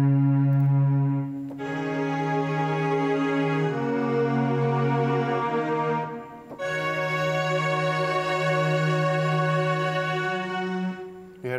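Synthesized string pad played in music production software during a studio session, with sustained layered chords that shift pitch every couple of seconds and no one talking.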